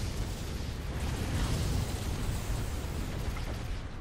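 Explosions and booming weapon fire from a space battle in the Sins of a Solar Empire Star Trek Armada III strategy game, a dense continuous rumble of overlapping blasts, loud and steady with no talk.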